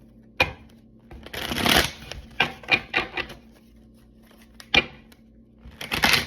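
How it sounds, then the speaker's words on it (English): Tarot cards are shuffled in several quick riffling bursts, crisp and close, separated by brief pauses and a few taps. "let's shuffle."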